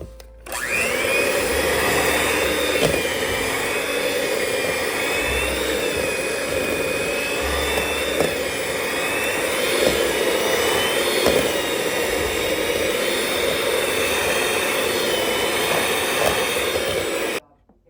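An electric mixer beating frosting with confectioner's sugar for a coconut cake gives a loud, continuous motor whine for about seventeen seconds, then stops abruptly.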